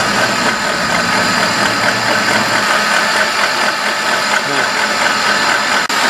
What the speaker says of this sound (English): so now we turn the engine on